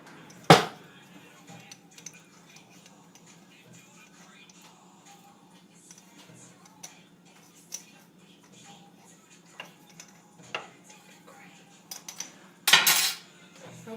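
A spoon clinks and scrapes against a bowl while mayo and sour cream dip with Epicure mix is stirred, producing scattered ticks and a couple of sharp louder knocks under quiet talk.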